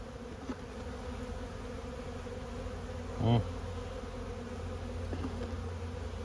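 Honey bees in a hive hum in a steady low drone, with a brief louder buzz as one passes close midway.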